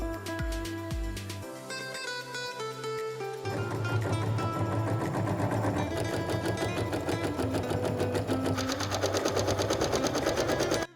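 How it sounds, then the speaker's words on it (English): Sewing machine stitching fabric for a bird aviary cover, a fast steady rattling run of stitches that starts after a few slower clicks and keeps going at a quick even rhythm, fairly close and clear. "I'm going to sew."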